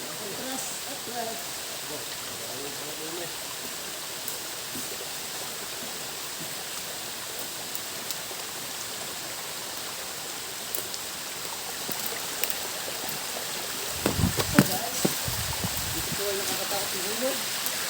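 Water flowing down a mountainside, a steady, broadband rush like a stream that stays constant throughout, with brief louder splashes and handling noises near the end.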